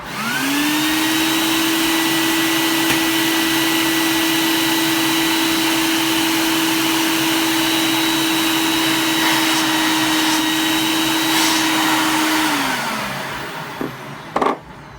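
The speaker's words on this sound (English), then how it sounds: "This is a weaker shop vac, so I've got the valve all the way closed at this moment." A shop vac with its valve fully closed starts with a rising whine and holds a loud, steady high-pitched roar for about twelve seconds. The motor then winds down, followed by a few faint clicks at the end.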